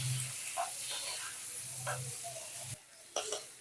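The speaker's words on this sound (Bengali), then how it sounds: "মশলার সঙ্গে লতিগুলোকে ভালো করে মিশিয়ে নিয়ে কিছুক্ষণ ধরে এটাকে কষাবো" Taro stolons sizzle and fry in a pan with spices while being stirred, a steady hiss broken by scraping strokes and brief pauses, close up.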